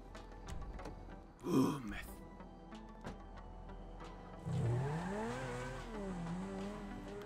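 A Turismo sports car in GTA 5 Online, its engine revving and rising in pitch through accelerations, with a brief swell and tire noise, moderately quiet under game sounds.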